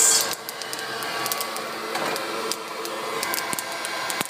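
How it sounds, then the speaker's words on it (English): Coffee beans in a popcorn popper roaster at second crack, giving scattered quick crackles over the steady whirring hot-air blower, with no talking. "That's actually second crack now. You can hear it sounds like roast, or fried eggs"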